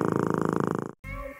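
A cat purrs close up in a steady rhythmic rumble for about a second, then cuts to brief silence followed by a different low murmuring sound.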